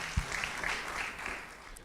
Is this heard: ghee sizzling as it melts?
no